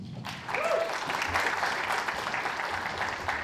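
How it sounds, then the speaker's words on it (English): A live audience at a talk-show stage event breaks into sustained, dense applause that starts abruptly and holds steady at full strength, a broad wash of many hands clapping with no talk over it. "please welcome to the stage with a warm round of applause"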